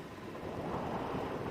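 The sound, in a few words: wind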